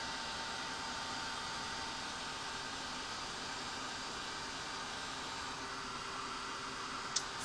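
A heat tool blows steadily over gel medium on an art journal page, a faint, even, breathy hiss with a low hum, constant and uninterrupted, ending with a small click.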